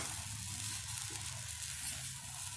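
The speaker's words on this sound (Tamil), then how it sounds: "தோசைக்கல் காஞ்சிருச்சு. கொஞ்சம் கனமாக ஊற்றிக்கணும், ரொம்ப மெல்லிசாக இல்லாமல்." Wheat rava and tomato dosa batter sizzles on a hot griddle, a continuous, even hiss with a soft low bubbling underneath, close and steady with no speech.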